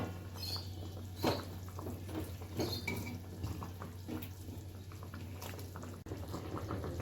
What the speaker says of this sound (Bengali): ঝোলটা এরকম ফুটছে